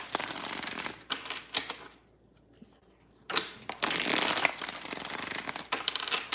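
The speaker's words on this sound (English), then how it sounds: "2 more shuffles here" A deck of tarot cards is shuffled up close in quick riffling bursts, crisp and clattering, broken by a short pause before a longer rapid shuffle resumes.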